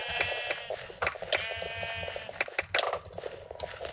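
Sheep in Minecraft bleat repeatedly in quick, nasal, wavering calls, loud and close, several bleats overlapping with short game clicks between them.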